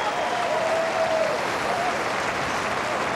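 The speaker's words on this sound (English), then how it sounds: "All you can do is applaud that shot." A tennis crowd at the 2009 Cincinnati match between Federer and Ferrer bursts into loud, sustained applause after a brilliant shot, the clapping steady and dense throughout.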